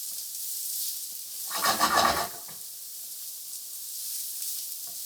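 Garlic for scallop risotto hits a hot pan with a sudden burst of loud sizzling that swells for about a second and then settles back into a faint background hiss, with no talking.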